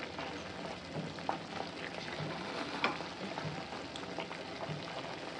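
Bombay rava halwa cooks in a pan after ghee is added, giving a steady soft sizzle with faint scraping stirs and a couple of sharper clicks, no voices.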